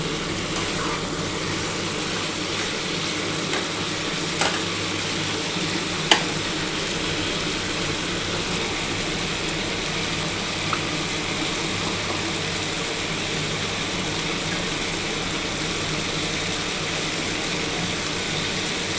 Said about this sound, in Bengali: মশলা আমি কষিয়ে নিয়েছি, এবার আমি কিন্তু জল দিয়ে দিচ্ছি।